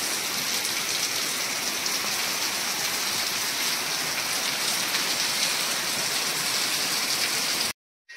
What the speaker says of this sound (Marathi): आणि बाहेर पाऊस चालू आहे